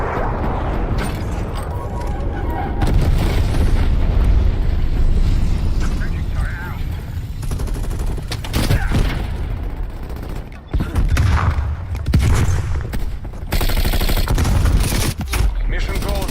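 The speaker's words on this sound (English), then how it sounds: "Enemy napalm strike incoming." Napalm strike explosions and bursts of gunfire from a tactical shooter game, rumbling and crackling continuously and loudly, mixed with clattering mechanical effects, with voices talking over the din.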